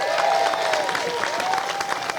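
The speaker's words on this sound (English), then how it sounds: "Clap it up for that" Crowd applause at a statue unveiling ceremony honoring Dawn Staley in Columbia, steady and sustained, with some cheering, whistling tones and a thin vocal sweep riding over the clapping.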